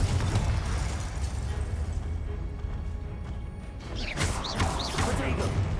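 Magic spell blasts, Glacius and Confringo, in Hogwarts Legacy: dense crashing bursts and rumbling impacts fill the scene, followed by sharp whooshing swirls near the end, with a voice speaking over parts.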